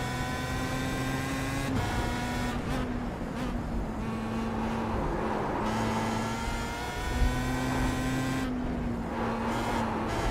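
Race car engines in a sim racing game drone at high revs throughout, a buzzing, harmonic whine with pitch shifts as one car pulls alongside and overtakes the other.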